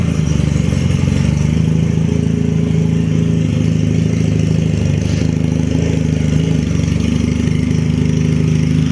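A Benelli Patagonian Eagle motorcycle engine, restarted after stalling, runs at a steady, throbbing idle, loud and close, holding an even rumble throughout without revving.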